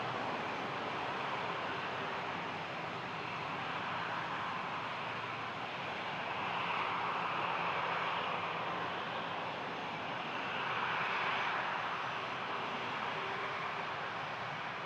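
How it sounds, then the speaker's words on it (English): An Airbus A330 airliner at Toronto airport produces a steady, broad engine roar at moderate distance, swelling gently twice without any talk. "here's the beloved A330"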